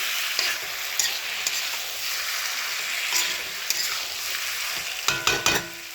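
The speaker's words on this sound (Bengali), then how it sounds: "সিদ্ধ করে রাখা কচুগুলোও ঢেলে দিয়েছি। এবার ভালো করে কষিয়ে নেব।" Boiled taro sautéing in a pan while a spoon stirs it, with a steady close sizzle and scraping strokes that turn sharper and more frequent near the end, no talk.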